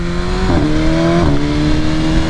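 A tuned BMW S1000RR motorcycle accelerates hard at full throttle, its loud, close engine howl rising in pitch with two quick gear-change dips, wind rush underneath.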